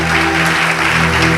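A church congregation applauds together in worship, a dense, steady wash of clapping that stays loud and even throughout, with no voices rising above it.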